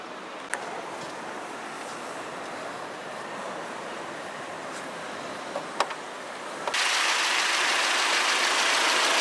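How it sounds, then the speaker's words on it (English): A 2017 Audi A4 Avant's 2-liter four-cylinder TFSI petrol engine idles steadily with a low, even hum, a few faint clicks, and a sudden rise in broadband noise near the end. "(2-liter 4-cylinder TFSI engine."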